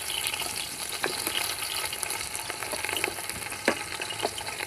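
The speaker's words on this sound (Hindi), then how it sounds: "सबसे पहले मैंने तेल गरम कर लिया है, आग मेरी तैयार थी, इसलिए ये देखिए प्याज डालूंगी।" A medium onion sizzles as it goes into hot oil in a pan for chana pulao: a steady, soft crackling hiss with occasional sharper pops and stirring clicks, fairly quiet and close.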